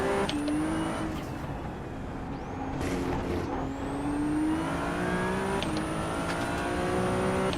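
A Ferrari Challenge race car at Oulton Park in iRacing revs hard, its engine pitch climbing through the gears with brief shift dips and a high whine, loud and close.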